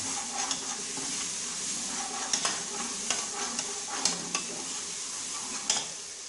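Crushed ginger stirred into mutton ojhri (tripe) frying in a pan, a steady close sizzle with sharp spoon scrapes and clicks against the pan every second or so, no voices.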